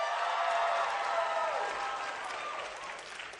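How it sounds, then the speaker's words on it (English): A crowd at a stand-up comedy show claps and cheers in response to the comedian, a moderately loud burst of applause that gradually tapers off over a few seconds. "Round of applause if you are under the age of 25."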